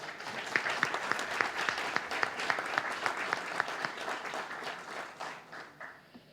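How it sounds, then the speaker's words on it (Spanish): An audience at a book presentation in an athenaeum bursts into applause welcoming the speaker, dense rhythmic clapping with sharp individual claps standing out, sustained for several seconds before tapering off. "vamos a recibirle un fuerte aplauso"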